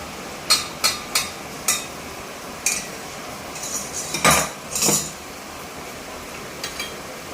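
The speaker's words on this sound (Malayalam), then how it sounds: "ചക്കരപ്പാനിയും ചേർത്തിട്ട് നന്നായിട്ട് ഇളക്കി കൊടുക്കാം" A spoon stirs jaggery syrup into fenugreek rice porridge in a metal pot, making a few sharp clinks and scrapes against the pot, spaced irregularly over a quiet background.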